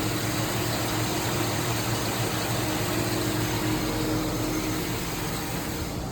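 A GMC Yukon engine idles steadily and smoothly, a constant low hum with a whining tone on top, close and unbroken, with no exhaust leak noise.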